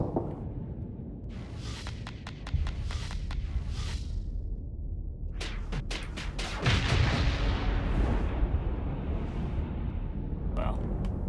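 Rockets exploding in the space combat game Starsector: a barrage of sharp cracks and rumbling booms over a steady low drone, intensifying in the second half with heavier, denser blasts.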